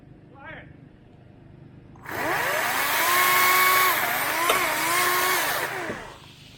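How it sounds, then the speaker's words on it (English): A small tracked mini wood chipper engine starts up and runs close by, a loud buzzing drone whose pitch rises and falls as the throttle changes, with a brief voice heard just before it. "I'm gonna move the chipper over here."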